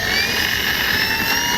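Arrows F4U Corsair RC warbird model plane flying, a steady high electric motor whine with shifting pitch tones, loud and continuous, no voices.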